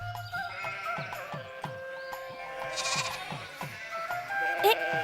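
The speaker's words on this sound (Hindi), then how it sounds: "उस तरफ से भेड़ों को हाँकना।" Sheep bleat repeatedly while being herded across fields, a rhythmic series of bleats close by under people talking.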